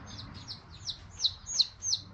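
Small Barred Rock chicks peep in a steady run of high, thin chirps, fairly close and moderately loud over a low background hum, during a move to a bigger coop.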